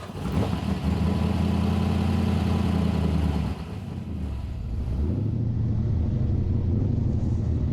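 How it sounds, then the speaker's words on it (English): A V8 engine rumbles loudly and continuously at close range, a deep throaty idle that dips briefly and then settles back into a lower, steady drone. "There's nothing like the rumble of a V8."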